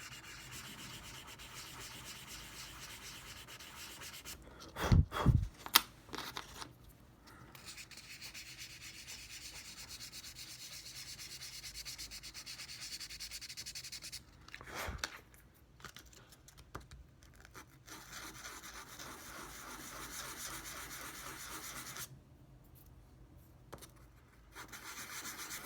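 Sandpaper rubbed across a flat unpainted model piece laid on a table mat to blend away a nub, a steady close scratchy rasp running throughout, with a few louder knocks and handling bumps near the start.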